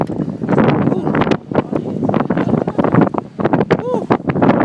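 Wind buffets a sailboat running under both sails, a steady roar of gusts and water rushing past the hull, with people talking and calling out excitedly over it.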